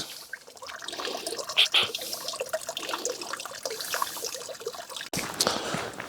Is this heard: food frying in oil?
no